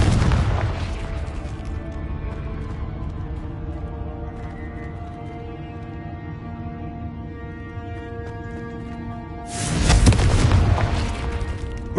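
A Confringo blasting spell explodes in the video game Hogwarts Legacy, opening with a loud, booming blast that rumbles and decays. A second heavy explosion erupts near the end, with no talking.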